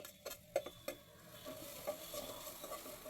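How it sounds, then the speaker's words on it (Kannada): Carrots and capsicum fry in a pan, a soft steady sizzle running throughout, while a spoon or spatula knocks and scrapes against the pan in a few light, irregular clicks, close by and fairly quiet. "ಒಟ್ಟಿಗೆ ಕ್ಯಾಪ್ಸಿಕಮ್ ಕೂಡ ನಾನು ಹಾಕ್ತಾ ಇದ್ದೀನಿ ಫ್ರೈ ಮಾಡ್ತಾ ಇದ್ದೀನಿ"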